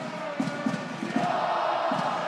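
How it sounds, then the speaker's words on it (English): A crowd at a women's volleyball match cheers and chants in a sustained, roomy roar, with rhythmic claps or stamps and shouted bursts rising and falling throughout. "The crowd keeping this energy."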